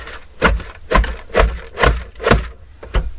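Five loud, evenly spaced thuds of a paper guillotine blade chopping down through a stack of journal pages, each a heavy wooden bang with a short scraping tail, played close with no talking.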